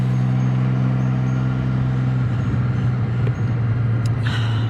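A Can-Am Spyder F3 motorcycle rides along a road with a loud, steady engine drone and road rumble that shift in pitch partway through as the ride continues.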